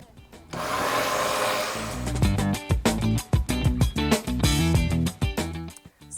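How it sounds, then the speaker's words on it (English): A blender whirs loudly as it purées a strained, cooled tea mixture for Puerto Rican holiday treats, running steadily at first and then pulsing in uneven, choppy bursts. "pour it into the blender. And then you just blend it all together."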